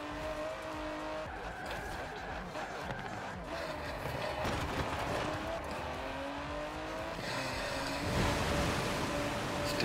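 A 2019 Aston Martin DBS Superleggera in Forza Horizon 4 driving fast through water, with a moderate engine drone, shifting whooshes and spray that swell toward the end.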